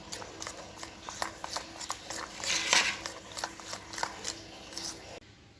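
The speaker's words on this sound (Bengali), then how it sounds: "নারকোল তেল দিয়ে দেবো এক চামচ মতন আবার ভালো করে মিক্স করব এগুলো" A spoon scrapes and clinks against a small bowl while henna paste is mixed with coconut oil, a steady run of light taps and stirs close up, with soft talk in the background.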